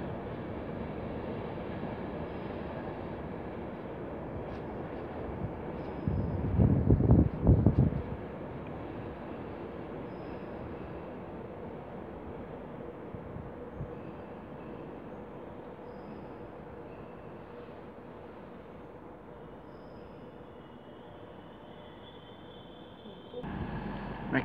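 A train passes through Darlington station with a broad steady rumble and wind-like roar, swelling around a third of the way through, with a brief louder rise near the end.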